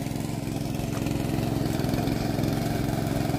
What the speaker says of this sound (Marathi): आणि बघा दादाचं पॉवर टेलर